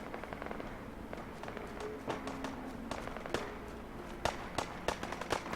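Distant gunfire crackles in the post-apocalyptic game Fallout 4: crisp, irregular pops and short bursts echo far off, some spaced apart and some clustered, with a steady ambient bed underneath.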